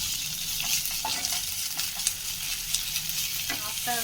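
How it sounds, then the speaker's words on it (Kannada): Ginger garlic paste fries in a pan with a steady hiss of sizzling oil, broken by light scraping and stirring strokes of a spoon, close up and continuous. "ಇದಕ್ಕೆ ಸ್ವಲ್ಪ ಜಿಂಜರ್ ಗಾರ್ಲಿಕ್ ಪೇಸ್ಟ್ ಹಾಕೋತೀನಿ, ಒಂದು ಅರ್ಧ ಸ್ಪೂನು. ಇದನ್ನು ಸ್ವಲ್ಪ ಹಸಿ ವಾಸನೆ ಹೋಗೋ ತನಕ ಹುರ್ಕೊಳ್ಳೋಣ."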